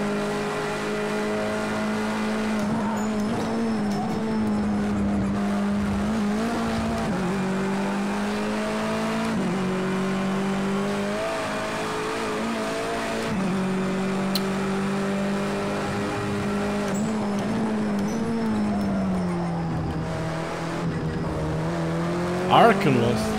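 Race cars in Project Cars 2 during an online eSports cup final, a continuous engine drone that rises and falls through gear changes for the whole stretch, with occasional tire squeal and faint talk over it.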